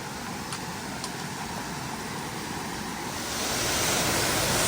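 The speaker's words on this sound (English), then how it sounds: "Look at these gorgeous falls. Absolutely stunning." Steady rushing roar of Dunn Falls, a waterfall in Maine, heard as broad continuous noise that swells louder toward the end, with no voices.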